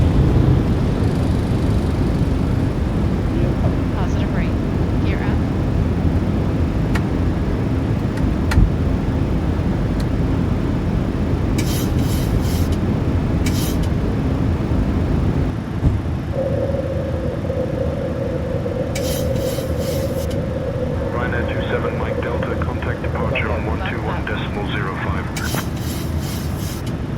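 A PMDG 737-800 jet in MSFS 2024 climbs out after takeoff from a short runway, a loud sustained broadband engine roar that steps down partway as tones and chimes sound, with voices talking over it.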